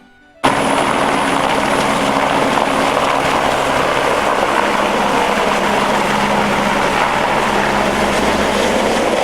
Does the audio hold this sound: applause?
no